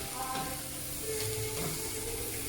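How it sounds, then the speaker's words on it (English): About a cup of wood ear mushrooms sizzling in a frying pan, a close, steady crackling hiss that carries on evenly with a few faint clinks of stirring. "Ooh, hear that sizzle?"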